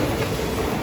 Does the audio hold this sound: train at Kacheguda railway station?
yes